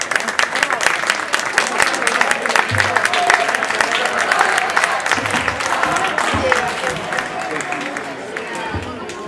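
Audience at the 2020 San Bartolomeo concert gives sustained, dense applause: many hands clapping steadily and loudly for several seconds, with crowd murmur mixed in, tapering slightly toward the end.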